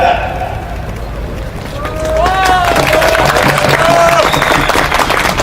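Crowd applause at an outdoor political mass and statement reading in Jeonju swells after a speaker's voice, a loud sustained roar of clapping and cheering with whistles and shouts over it.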